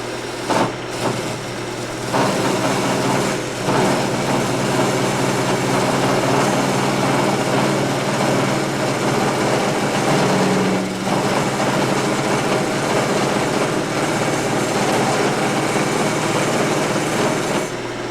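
A wood lathe turns a mesquite bowl with a continuous, loud motor whine and the rough hiss of the cutting tool on the wood, sustained steadily throughout without speech.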